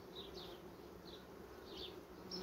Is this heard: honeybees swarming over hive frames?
yes